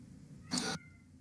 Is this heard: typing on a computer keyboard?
no